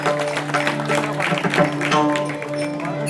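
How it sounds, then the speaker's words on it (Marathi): Audience at a bhajan singing competition in Mumbai claps loudly and steadily for about three seconds, a dense wash of applause over sustained held musical tones, with no talk. "एकदा जोरदार टाळ्या तुमच्यासाठी होऊन झाले"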